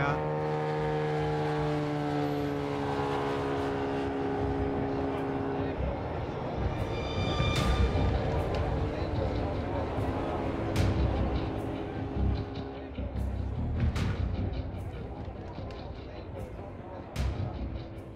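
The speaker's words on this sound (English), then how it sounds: "It's a 1926 3-litre Bentley, 4 cylinders, overhead camshaft, 4 valves per cylinder, twin carburettors." A 1926 3-litre Bentley with a four-cylinder overhead-camshaft engine and twin carburettors runs at a dirt racing revival, a loud, continuous engine drone that shifts in pitch under a rumbling, busy background.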